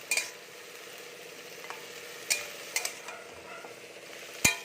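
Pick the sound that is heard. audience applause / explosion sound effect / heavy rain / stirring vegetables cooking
stirring vegetables cooking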